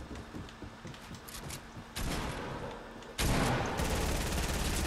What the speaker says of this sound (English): get the guy that's shooting on top of me